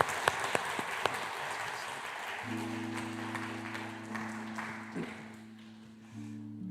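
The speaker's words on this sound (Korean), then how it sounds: "우리 박수로 한번 축복하시기 바랍니다" A church congregation at a Sunday worship service claps for a newly baptized member, broad steady applause filling the room, joined midway by a sustained organ or keyboard chord, then tapering off softly.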